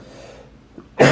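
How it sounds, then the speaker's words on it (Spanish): A single sharp cough bursts out near the end, close and loud, after a quiet stretch with faint breathing and a small throat sound just before it. "Perdón, por la tos."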